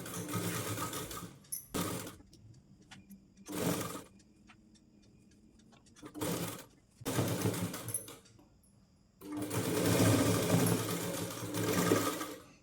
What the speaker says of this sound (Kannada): ಇದನ್ನು ಒಂದು ಟೆನ್ಷನ್ ಮಾರ್ಜಿನ್ಗೆ ನಾವು ಸ್ಟಿಚ್ ಹಾಕೊಂಡ್ರೆ ಸಾಕು